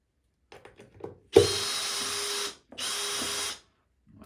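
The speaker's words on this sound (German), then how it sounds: "Ich mache ein bisschen härtere Einstellungen hier und ziehe mal kurz die Schrauben raus" A power drill backs screws out of a swivel chair's mechanism in two close, loud whirring bursts of about a second each, with faint handling clicks before them.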